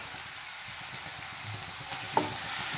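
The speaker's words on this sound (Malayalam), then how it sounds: "നന്നായിട്ട് തന്നെ ഒന്ന് ഇളക്കി കൊടുക്കാം" Crushed garlic and ginger sizzle steadily in a hot pan while being stirred, a close continuous frying hiss with a brief scrape of the spoon, no voices.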